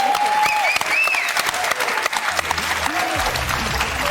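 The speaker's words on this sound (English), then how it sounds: "Round of applause, ladies and gentlemen." Studio audience applauding on a televised news talk show, a steady dense wash of clapping that holds throughout, with a few whistles or cheers rising above it.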